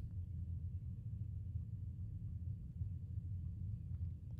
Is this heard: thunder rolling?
yes